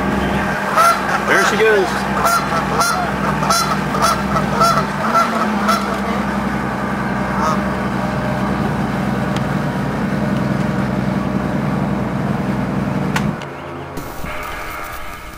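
Goose honks repeatedly near a lakeside nest at Lake Lure, loud calls in rhythmic bursts over a steady low engine-like drone, with a person speaking briefly.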